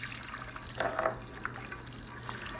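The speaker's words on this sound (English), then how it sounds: "we are going to start pouring in the muriatic acid" Muriatic acid is poured into a bucket holding a corroded brass sea strainer, giving a faint, brief trickle and splash of liquid against a quiet background hum, with no talking.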